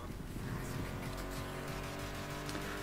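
Car engines roaring during a race in The Crew Motorfest, including a muscle car, giving a dense, continuous mechanical drone with revving layers and faint tire noise, sustained and fairly loud with no talking.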